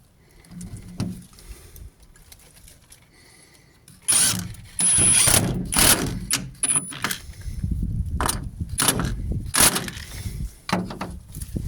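30mm timber screws with neoprene-type heads are driven into the roof of an outdoor bin shelter. After a quieter start, a series of loud, short mechanical whirring bursts follows close by, and no one talks.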